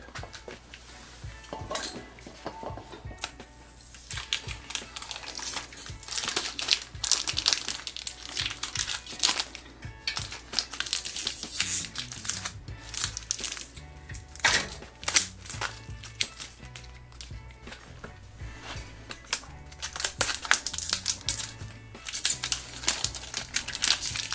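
Tape is peeled off a Surly Front Rack on a bicycle, making a continuous close crackle and crinkle of stretching and tearing adhesive, with sharper rips scattered throughout.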